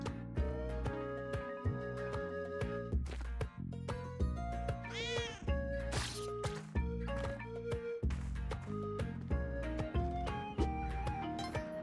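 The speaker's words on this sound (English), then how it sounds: "That cat is nothing to do with me." A cat meows in Spelunky 2, a drawn-out, rising and falling mew over busy, loud game music and sound effects.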